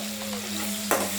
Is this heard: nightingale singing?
no